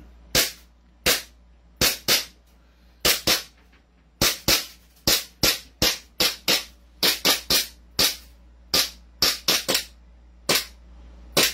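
Rapid sharp gunshots at shooting practice, about two dozen loud, crisp reports in irregular bursts with short pauses between, each ending in a brief ringing decay.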